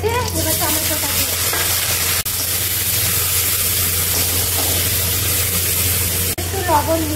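Tomatoes drop into hot oil already crackling with panch phoron and dried red chilli, giving a loud, close, unbroken sizzle over a low steady hum, with a few sharper spits and no talking.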